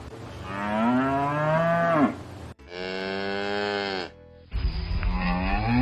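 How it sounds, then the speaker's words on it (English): A cow moos three times in a row, loud and close. The first two calls are long and drawn out and the last is shorter, with short pauses between them and no other sounds. "That's the sound of cow."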